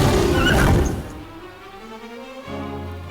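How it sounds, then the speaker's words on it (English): A shadow mare, a demon horse with burning hooves from the game The Dwarves, lets out a loud close whinny that rises and fades, followed by a low rumbling snort and a dull thunk. "That's a nasty horse."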